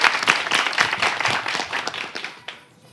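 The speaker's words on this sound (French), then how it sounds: "On va applaudir pour elle." An audience claps for a woman at a live event, a lively round of many hands with distinct sharp claps, fairly loud and close, thinning out and fading near the end.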